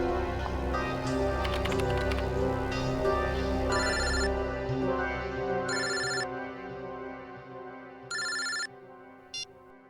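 A telephone rings in a TV crime drama scene, several short repeated bursts of ringing over a dense background of music and ambient sound.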